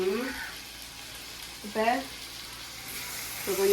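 Chopped greens fry in a clay pot, a soft steady sizzle running throughout beneath brief snatches of a nearby voice.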